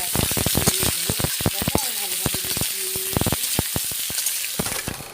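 Potato and ridge gourd hit hot tempering oil with chilli, giving a dense, loud sizzle with sharp rapid crackles and pops throughout.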